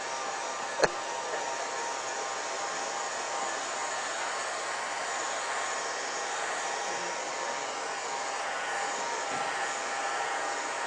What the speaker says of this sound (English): That's why I have this handy dandy dryer.